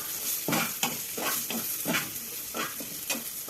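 Food sizzles in hot oil in a pan while being stirred, with a steady crackling hiss and repeated scraping strokes roughly every half second, close up and with no one talking.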